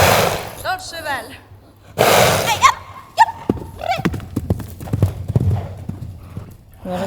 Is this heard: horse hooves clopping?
yes